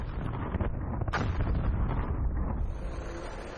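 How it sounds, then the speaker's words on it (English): Small explosive charges blast rock at an Arctic dinosaur fossil dig, producing a deep rumbling boom that swells and fades outdoors, with wind noise on the microphone. "They begin with a set of relatively small charges."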